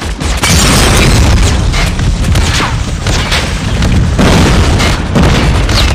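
A Goliath vehicle blows up in a Call of Duty: Mobile multiplayer scrim match, a loud sustained booming blast that rumbles on for several seconds with continuous crackling debris and dense game noise.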